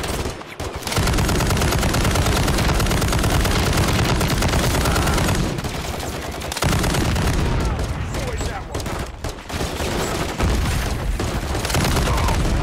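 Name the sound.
mounted machine gun firing, Call of Duty Modern Warfare 3 video game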